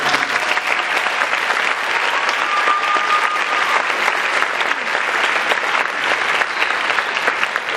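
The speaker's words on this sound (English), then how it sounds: "I'd like to give all of them a round of applause because they're incredible" Loud, dense applause from a concert audience at a high school band spring concert, sustained and even throughout with no pauses.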